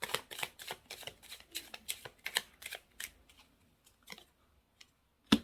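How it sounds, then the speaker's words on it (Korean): Tarot cards being drawn and laid out for a weekly reading, heard as a run of soft, close card flicks and slides, thinning out toward the end with one sharper snap, and no talking. "여러분들을 위한 힌트 카드 3장 뽑아 볼게요."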